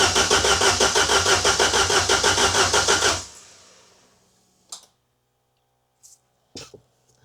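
An old car engine, left unstarted for 15 years, cranks with a steady rhythmic churn for about three seconds without catching, then winds down into quiet broken by a few faint clicks and knocks.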